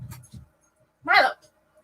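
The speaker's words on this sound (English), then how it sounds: "Sorry, yell at the dogs." Dogs at home giving short whimpers and a sharp, loud yelping bark up close, with quiet gaps between the sounds and a person's voice heard briefly nearby.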